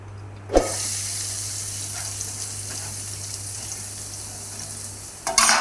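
Steady hiss of onions frying in hot oil for egg bhurji, constant and close, with a sharp clatter near the start and a louder scrape at the end.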